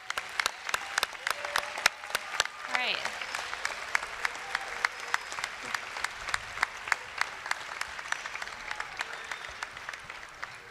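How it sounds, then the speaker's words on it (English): A final round of applause at an ESL class graduation, with a modest crowd clapping in a steady patter of distinct claps and a brief spoken remark near the start. "So, final round of applause, please."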